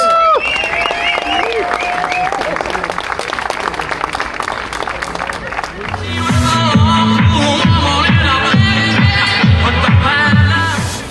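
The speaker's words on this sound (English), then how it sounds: "let's have a round of applause." A crowd at a Ducati supercross team party applauds in dense, sustained clapping with scattered whoops, while amplified music with a booming beat kicks in partway through and plays under the clapping, fairly close and loud.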